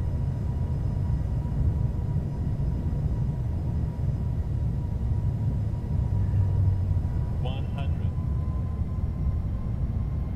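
A Boeing 757-330 airliner in the Condor livery lands at Palma de Mallorca in a flight simulator, with a constant low engine and airflow rumble throughout and a couple of short high cockpit chimes near the end.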